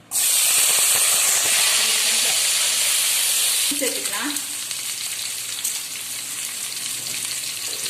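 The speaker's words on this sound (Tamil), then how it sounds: "எண்ணெய் காஞ்சதும் நம்ம இந்த இஞ்சி கொஞ்சம் போல கட் பண்ணி வச்சிருக்கேன், அதே வெங்காயம் கருவேப்பிலை எல்லாத்தையும் சேர்த்துக்கலாம்." Ginger, onion and curry leaves dropped into hot oil burst into a loud, close hissing sizzle that settles into a softer steady crackle after a few seconds, with no speech.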